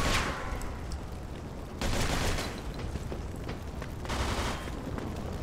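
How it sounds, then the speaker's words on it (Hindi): Gunfire in the Mafia II video game: bursts of shots come in a few volleys separated by short lulls, moderately loud with no talking. "कहाँ से गोलियां चल रही हैं?"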